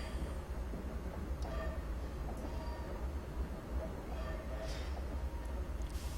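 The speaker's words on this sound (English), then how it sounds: "so I can bring the train to a stop now." AC6000CW diesel locomotive hauling coal in Train Simulator 2015 on the NS Coal District route, a steady low engine drone with faint clanks and squeals of rolling wagons, continuous and moderately quiet.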